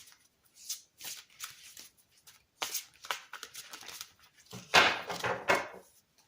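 Angel Tarot cards being shuffled by hand, close up, in repeated papery riffles and slides with brief pauses between bursts and a louder flurry near the end; no one speaks.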